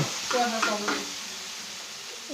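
A short sizzle of food stir-frying in a pan over a high gas flame with a quick stir, a brief voice at the start, then steady hissing.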